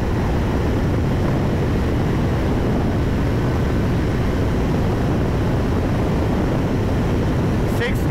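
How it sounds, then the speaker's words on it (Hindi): Triumph Speed 400 motorcycle running fast in sixth gear near top speed, a loud steady roar of engine and wind rushing past the rider without a break. "सिक्स्थ गियर के अंदर जा रही है मोटरसाइकिल अप्रॉक्सीमेटली 160"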